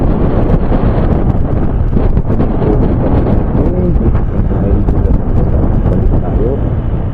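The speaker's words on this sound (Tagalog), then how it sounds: "Hangin dito, grabe." Heavy wind buffets the microphone in a constant low roar at a large government housing site in Naic, Cavite, loud and close, with a voice faintly audible underneath.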